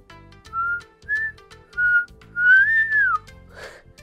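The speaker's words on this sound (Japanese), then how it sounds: "でも口笛は吸うならできるんだよ。" Whistling made by inhaling rather than blowing gives four tonal notes in sequence: short steady pitches, then a longer rising-and-falling sweep, ending with a breathy rush. Each note is thin and clear against a quiet background.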